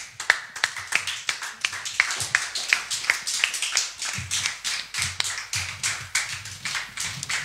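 A church congregation claps along in worship, a steady run of sharp, rhythmic hand claps mixed with low thumping beats, loud and lively throughout with no talking.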